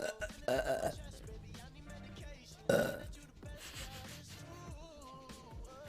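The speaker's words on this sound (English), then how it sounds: "It's a burp, yeah." A person lets out two loud, drawn-out burps, the first early on and the second, sharper one near the middle, with quieter vocal sounds between and after them.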